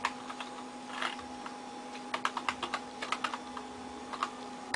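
Computer keyboard typing in DOSBox, soft close key clicks in irregular bursts over a faint steady electrical hum.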